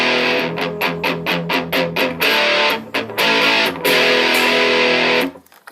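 Electric guitar played straight into a Crate GX-60 amp with the shape knob near 7 and no pedals: a run of rapid strummed chords followed by sustained, distorted ringing chords that cut off abruptly.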